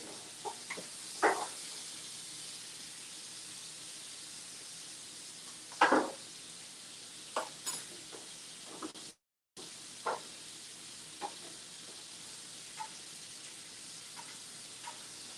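Salmon frying in a pan gives a faint steady sizzle, broken by several sharp clicks and clatters of utensils, with a brief dropout in the middle.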